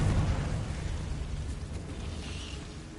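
A Confringo fire spell detonates in the Hogwarts Legacy video game, a loud, dense burst at the start that rumbles and slowly fades over a few seconds.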